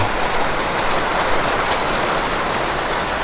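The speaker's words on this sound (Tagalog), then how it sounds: "Ang lakas ng ulan, tingnan mo." Heavy rain pours down in the Philippines, a dense, steady hiss of drops on surfaces that holds constant throughout with no voices.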